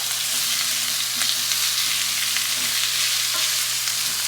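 Roasted red peppers and artichokes frying in a pan, a constant loud sizzle with soft stirring scrapes and a low steady hum beneath, no talking.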